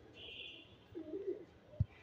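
A pigeon chick at a pigeon market gives a soft, brief coo amid faint background chatter and bird noise, followed by a short low thump near the end.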